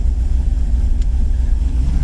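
Car engine idling steadily after a cold start on an E85 tune, a continuous low rumble held at about 900 rpm, close and fairly loud with no talk over it.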